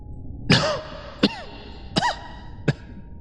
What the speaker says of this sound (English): S, coughing.